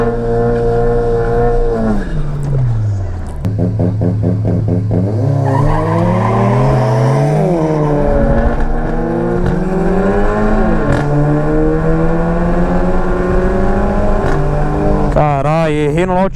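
A Volkswagen GTI launches hard at a car meet challenge, its engine revving loud and close with rising, shifting pitch, tires squealing briefly as it accelerates over the whole stretch.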